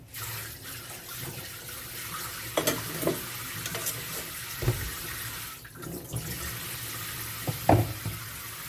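Beef frying in a pan in a home kitchen gives a steady, close sizzle, broken by occasional clinks and scrapes from stirring, with no talking.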